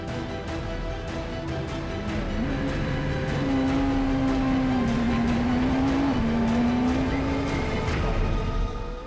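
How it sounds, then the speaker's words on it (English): A Castrol Toyota Yaris S2000 rally car drives through muddy, wet timber plantations during a 2014 rally, its engine note loud and sustained and rising in pitch as it accelerates across the clip with no talk over it. "The Castrol Toyota Yaris of championship leaders Leroy Poulter and Alvin Coetzee is the first car to thunder into the York timber plantations just outside of Sabi."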